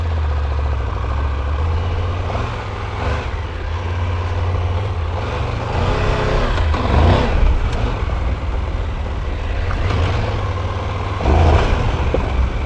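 A Triumph Tiger 1200 Rally Explorer adventure motorcycle engine rumbles low and steady close by through the stock exhaust, revving up and down a few times as it pulls away.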